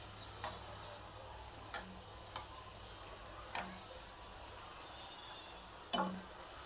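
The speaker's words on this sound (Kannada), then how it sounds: "ಎಣ್ಣೆಯಲ್ಲಿ ಹಾಕಿ ಹೀಗೆ ಕಂದು ಬಣ್ಣ ಬರೋವರೆಗೂ, ಸ್ವಲ್ಪ ಕಂದು ಬಣ್ಣ ಅಂದರೆ ಸ್ವಲ್ಪ ರೆಡ್ ಆಗೋವರೆಗೂ ಕರಿಬೇಕು" Karjikayi pastries deep-frying in hot oil, a faint, quiet bubbling sizzle punctuated by a few sharp ticks and clinks from utensils, with no talking.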